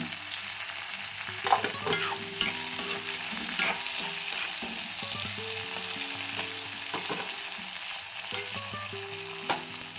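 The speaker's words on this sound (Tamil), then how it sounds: "ஓரளவுக்கு வதங்கிடுச்சு." Vegetables sizzling and crackling in a hot pan, with intermittent scraping and stirring clatter from a utensil, no voices.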